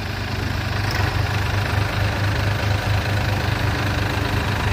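Two diesel tractors, a Powertrac Euro 45 Plus 4WD and a New Holland Excel 4710 4WD, running under load in reverse or second gear, giving a steady, loud, low throbbing engine drone that stays constant throughout with no voices.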